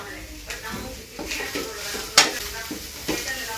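Oil sizzles in a pan while cabbage palya fries, with a spoon stirring and scraping against the vessel in short strokes. One sharp clink stands out partway through, and everything stays close and moderately loud.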